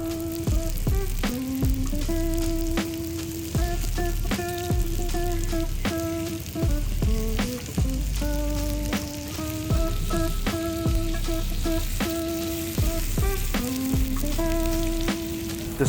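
Wagyu beef, pork belly and skirt steak grill over an outdoor barbecue at a Bedok hawker center, a steady close sizzle and crackle playing beneath prominent background music.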